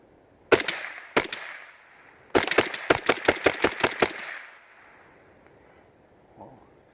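A pistol fires CCI poly ammunition: two separate loud shots, then a quick rhythmic string of about eight shots, followed by quiet, with no talk.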